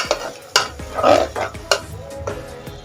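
Spice paste and a little water being stirred into mutton curry in a pot, giving a few wet scraping and sloshing strokes with soft squelches, close by and moderately loud, with no talk.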